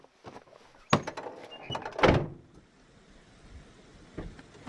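Door of a camper van on a Canadian logging road sliding and thudding open, with a sharp clunk, a louder rumbling slide, and a later soft thump against a quiet outdoor background.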